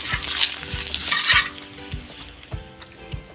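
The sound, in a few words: cooking oil sizzling in a hot pan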